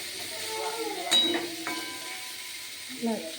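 Gentle frying sizzle of khichuri in a pan with a couple of sharp clinks of a utensil, and a voice murmuring briefly near the end.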